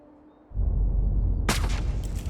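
A sniper rifle fires in the Hitman video game on Hokkaido: a low rumble swells up, then a loud sharp crack breaks out, and a second crack follows shortly after over a booming tail.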